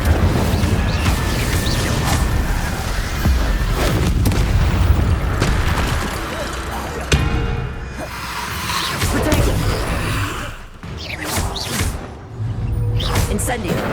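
The Incendio fire spell is cast in Hogwarts Legacy, heard as booming, whooshing bursts inside a dense, continuous wash of game noise that swells and dips throughout.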